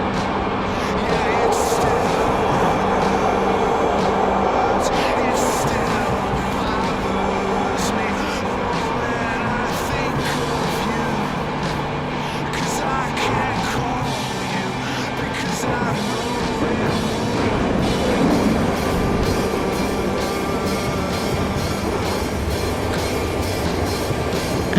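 A train rumbles steadily along the tracks with rhythmic clacking and a low mechanical drone, continuous throughout.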